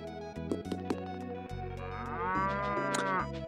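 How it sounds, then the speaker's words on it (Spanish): In the video game Tales of Phantasia, a cow gives a long, loud, drawn-out moo over steady background game music, with no one speaking. "¿Una vaca?"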